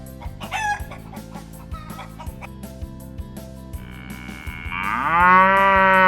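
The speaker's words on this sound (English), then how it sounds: "Cow barn." Hens cluck softly over a steady background, then a cow lets out one long, loud moo near the end.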